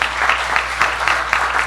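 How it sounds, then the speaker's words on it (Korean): An audience applauds at the close of a university professor's lecture, a steady, full round of clapping from a seated crowd, dense and fairly loud throughout with no voices. "다시 한번 이준호 교수님께 박수 한번 다시 부탁드리겠습니다."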